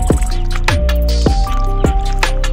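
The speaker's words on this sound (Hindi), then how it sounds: "और ना थोड़ा सा पानी और डाल देते हैं।" Water is poured and worked into wet clay mud for plastering a clay stove, giving repeated close, loud squelches and drips in an uneven rhythm, with no talking.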